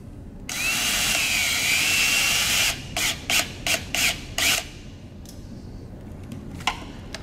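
A power driver seats a screw into a 12V power awning end cap: one sustained high whirring run of about two seconds, then five short, sharp bursts close by, with no talk.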